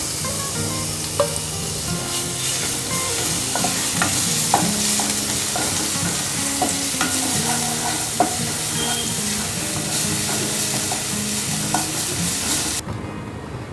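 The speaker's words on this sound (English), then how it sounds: "Take the same kadhai, add just 1 teaspoon of oil to this. Let's add the ginger, garlic and coriander" Ginger, garlic and coriander paste frying in a teaspoon of oil in a kadhai, a steady close sizzle broken by repeated scraping and stirring strokes, with no voices.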